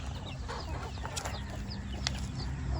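Chickens cluck continuously on a farm where hens are laying eggs, with short overlapping calls, scattered chirps and a steady low background hum.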